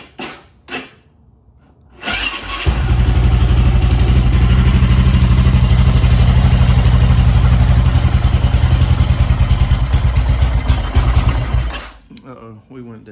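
Yamaha SR500 motorcycle with a faulty electric starter cranking a cold engine: a few clicks and clunks, then a loud, rapid, continuous churning whir for about nine seconds before it cuts out, close up and without speech.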